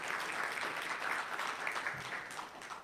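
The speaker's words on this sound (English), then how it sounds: "Let's give a round of applause to that." An audience applauds steadily at a gathering, with a dense, fairly faint patter of clapping that holds throughout.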